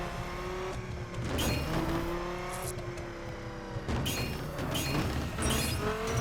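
A car engine in The Crew racing game on a Laguna Seca time trial revs hard and accelerates, rising pitch sweeps repeating over several seconds, loud and close with occasional swooshes of passing scenery.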